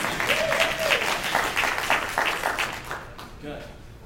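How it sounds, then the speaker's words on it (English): An audience breaks into sustained applause at a political event, dense clapping that stays steady for about three seconds before thinning out, with some voices mixed in. "Applaud if you agree."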